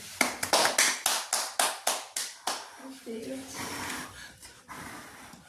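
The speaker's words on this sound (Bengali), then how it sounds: "হাততালি।" Hand clapping at a Bengali birthday greeting: about ten sharp, evenly spaced claps in quick rhythm, close and loud, then fading into breathy noise and murmured voices.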